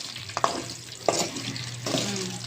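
Chicken coated in red food colour and masala fries in a pan, giving a soft, continuous sizzle broken by three scraping stirs of a spoon, close and fairly quiet.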